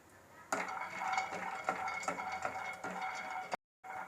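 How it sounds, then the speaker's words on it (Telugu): Almonds frying in a pan, with a steady sizzle under sharp clinks and scrapes of a spoon stirring against the metal, every half second or so. "ఈ బాదం కూడా వేపుదాం."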